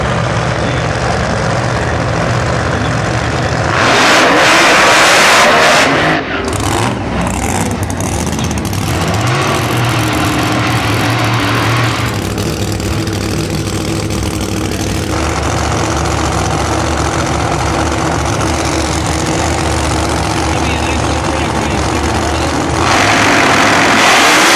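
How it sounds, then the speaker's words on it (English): A Mustang drag car powered by a naturally aspirated 825 cubic inch Hemi races in an eighth-mile heads-up drag event, a loud, sustained engine roar that surges and shifts as it passes, with crowd and track ambience underneath. "This car is motivated by an 825 cubic inch Hemi, and the info that I found had it listed as naturally aspirated"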